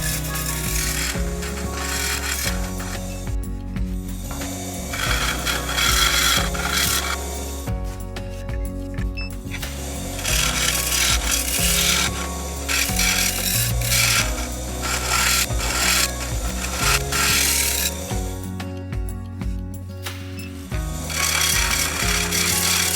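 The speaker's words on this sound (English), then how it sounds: "So the same with the outside, you then sand from, I sanded from 80 to 400 grit" Sandpaper from 80 up to 400 grit works the outside of a turned sycamore bowl on a wood lathe, giving a loud, steady abrasive rasping that breaks off briefly between passes.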